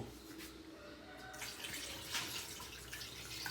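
Water pours and splashes into a cooking pot holding cloves and other whole spices for a village-style mutton and drumstick curry, a steady close gush starting after a quieter moment.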